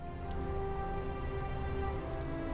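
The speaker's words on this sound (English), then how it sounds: "It's raining right now." Steady rain pours down in the game Lord of the Rings Online, a dense wash of patter with a low rumbling bed beneath, continuous and even throughout.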